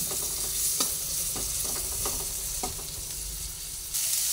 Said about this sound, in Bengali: এরপরে আলু আর কুমড়ো একসঙ্গে ভালোভাবে সাঁতলিয়ে নিচ্ছি।